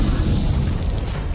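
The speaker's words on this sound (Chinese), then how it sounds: "他们无视弹药的爆炸！" Ammunition explodes in an animated fantasy battle scene, a dense, loud, rumbling blast that fills the whole short moment with heavy low booming.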